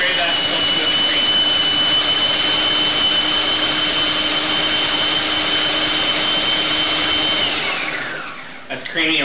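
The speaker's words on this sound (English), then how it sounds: "puree that until smooth and creamy." Countertop blender pureeing a white bean spread with dried basil, a loud steady motor whir and churning that runs unbroken for about eight seconds, then cuts off near the end.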